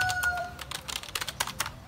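Keys clatter on a thin Keychron K1 mechanical keyboard from 2020, with a quick, irregular run of crisp, close clicks at a moderate level.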